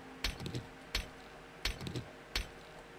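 Pickaxe strikes on rocks while mining in the survival game 7 Days to Die, four sharp clinking impacts at an even rhythm, each followed by crumbling rubble, quiet and with no talk.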